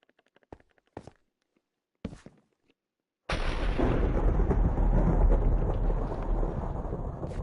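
A thunderstorm in the video game Minecraft: a few sharp isolated clicks, then a sudden heavy roar of thunder and rain that stays loud and sustained.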